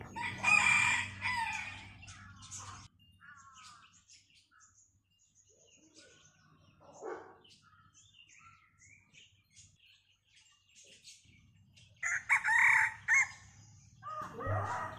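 Fighting cocks crow repeatedly on a cold, gloomy morning, one loud call at the start and another near the end, with fainter crows and chirps from other birds between them.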